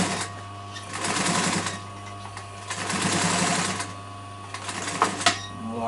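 A sewing machine stitches around the corner of a double-piped chair cushion, its motor humming in loud bursts that rise and fall as the seam is sewn and the work is turned.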